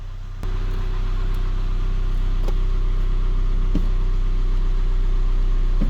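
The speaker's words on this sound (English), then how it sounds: "So car is running." A 2008 Audi A3 2.0 TDI diesel engine with DSG transmission idles steadily with a low, continuous rumble after starting up, with a few faint clicks over the hum.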